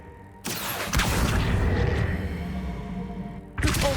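In Hogwarts Legacy, a Depulso spell is cast: a sudden loud whooshing burst and impact that swells into a rumbling, debris-filled blast lasting a few seconds, then a second sharp burst right at the end.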